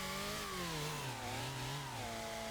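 A chainsaw cutting down jungle trees in a video game, heard as a loud, steady engine drone whose pitch wavers slightly as it works, with no talk.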